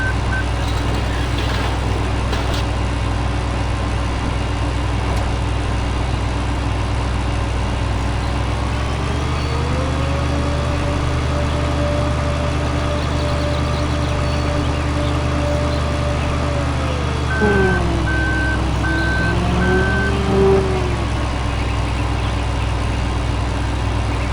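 A farm vehicle in Farming Simulator 2013 reverses with a repeating electronic backup beeper over a steady idling diesel engine, the beeps sounding late in the clip.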